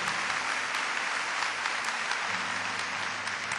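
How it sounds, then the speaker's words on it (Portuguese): A church congregation at a Catholic camp-retreat gathering breaks into sustained, dense applause, steady and fairly loud throughout, with no talk over it. "Vamos aplaudir essa palavra, essa certeza, com força,"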